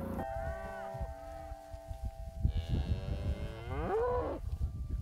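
Cattle moo on a grazing pasture with a freshly opened paddock behind an electric fence: several long, drawn-out moos, one rising and bending in pitch near the end, over low outdoor rumble.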